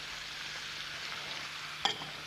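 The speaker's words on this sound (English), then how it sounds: "Put that in around the edges so it gets a good chance to fry." Chopped garlic cloves frying with onions, pepper and peas in a pan, a steady close sizzle running throughout, with a brief sharp clatter near the end.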